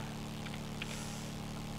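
Motorcycle engine in the video game Zombie Adictos RP, a faint, steady low droning hum that holds an even pitch throughout, with no talk over it.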